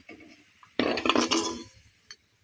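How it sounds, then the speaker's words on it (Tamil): A metal slotted ladle lifts fried bread balls for bread gulab jamun from hot oil, making a short burst of close metallic clinks and scraping against the pan, with quieter moments before and after. "இப்படி ஜல்லிக்கரண்டி வச்சு இது பண்ணாவே எண்ணெய் வடிஞ்சிரும்."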